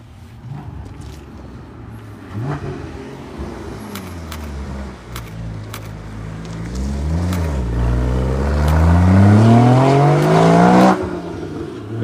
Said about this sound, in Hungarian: Végre egy Porsche.